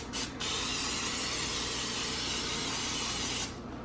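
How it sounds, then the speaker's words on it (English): Cooking oil sprayed onto chicken nuggets in an air fryer basket: a brief initial puff, then one long steady hissing spray lasting about three seconds, close and loud. "Give it another good spray."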